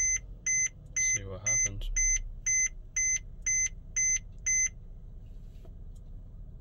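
A Mercedes-Benz GLK350 dashboard gives a steady series of about nine evenly spaced electronic warning beeps while the ignition is cycled, with someone briefly talking over the early beeps.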